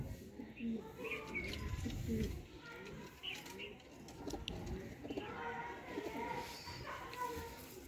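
Cross-bred pigeon pairs coo repeatedly at close range in soft, rhythmic bursts, with other birds chirping faintly and someone talking over them throughout.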